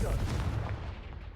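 Confringo fire spell cast in the Hogwarts Legacy video game, a loud booming burst with a dense low rumble that decays slowly over about a second and a half.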